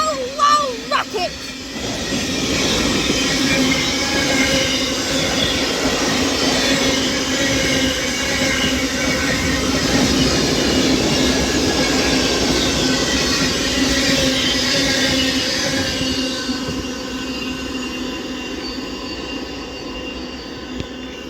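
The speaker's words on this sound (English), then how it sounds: "Anyways, this freight class 66 passes through Runcorn now, heading down south" A Class 66 freight train passing through Runcorn, loud and steady for about twenty seconds, with continuous high wheel squeal and rumbling wagons close by, fading slightly near the end; a voice is heard briefly at the start.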